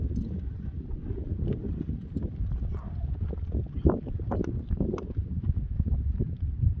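Horse hooves clip-clop over a steady, windy outdoor background, with several sharper footfalls standing out near the middle and toward the end.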